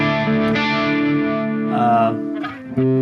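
Electric guitar crunch tone through a Sonicake Matribox 2 Pro, loud sustained chords ringing with overdrive, each struck chord held and decaying before the next strum near the end.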